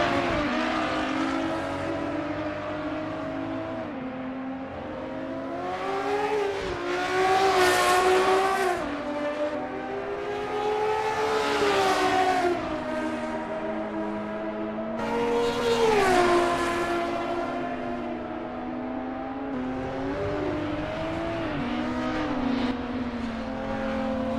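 BMW CSL race car in Assetto Corsa at Dubai Autodrome, its engine revving and shifting loudly through gears in a practice session, pitch rising and falling in long sweeps with no talk over it.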